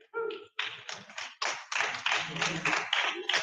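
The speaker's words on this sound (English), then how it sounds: "I need some little hand clap" Audience in a large room clapping hands together, a burst of applause close and loud that stutters briefly at the start before swelling into steady, dense clapping.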